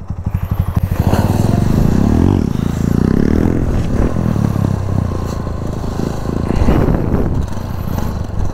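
A motorcycle engine is throttled hard and held at high revs for a wheelie, loud and close, with a rising rev near the start, a sustained roar, then another surge near the end, alongside some scraping clatter.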